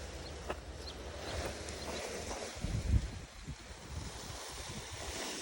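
Gusty, twitchy wind buffets the microphone while a paramotor paraglider wing is hand kited outdoors, a low rumbling roar that surges and swells around the middle and then eases off.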